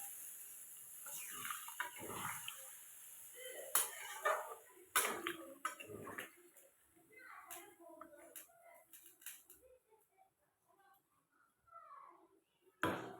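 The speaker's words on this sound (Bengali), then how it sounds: "মাংসের জলটা দিয়ে দেবো, পাতলা করবো তো একটু জলটা বেশি দিতে হবে।" Water is poured into a pan of simmering chicken curry in a home kitchen, coming as faint, intermittent splashes and gurgles with quiet gaps, some clinking between pours.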